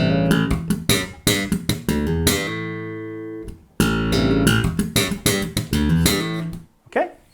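A bass guitar plays a percussive slap riff with slapped low notes, hammer-ons and sharp pops, the thumped attacks punctuated by a sustained ringing note midway, loud and close with no talking.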